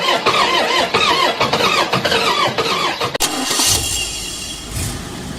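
A scrapped Volkswagen Passat in the Car Parking Multiplayer video game cranks with a whining starter for about three seconds, then catches and settles into a steady idle.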